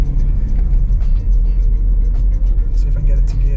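Car engine driving up a road with a gradual rise in speed, a steady low rumble throughout with someone talking over it.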